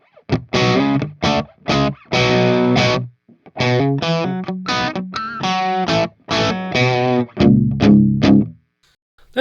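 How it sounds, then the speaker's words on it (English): An electric guitar played through the clean channel of the ML Sound Lab Amped Oracle amp with the gain pushed, giving light distortion on a series of strummed chords and short riffs, loud and close, with brief pauses between phrases. "You push the gain on the clean channel a bit and it seems like you can get a little bit of distortion."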